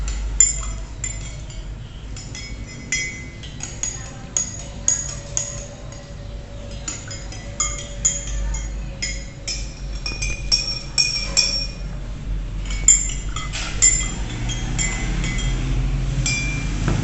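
A utensil stirs a solution in a laboratory glass, giving repeated light clinks and taps against the glass in an irregular rhythm, close and fairly clear over a low steady hum.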